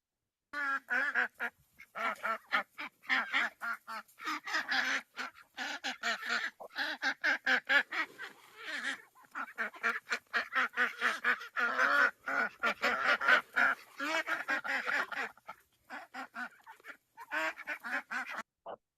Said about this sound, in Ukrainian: Дітки, давайте будемо спостерігати за цими чудовими птахами.